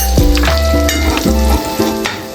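Red chili powder, Agri masala and turmeric sizzle loudly in a hot pan for a tiger prawn curry, a close, dense hiss with a few abrupt stirring bursts over a low tonal hum.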